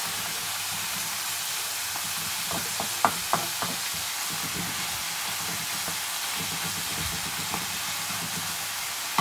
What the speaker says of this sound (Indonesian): biar kentangnya dulu aja kita masak